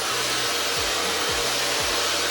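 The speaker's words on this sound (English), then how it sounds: "I'm gonna turn the blow dryer on." A handheld blow dryer fitted with a diffuser, used to dry natural curly hair, runs with a loud steady airy roar and a low motor hum that dips briefly a few times.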